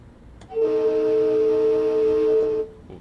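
An LIRR M3 train horn in Train Sim World 4 sounds one steady, loud, sustained tonal blast at a whistle board, lasting about two seconds and ending abruptly.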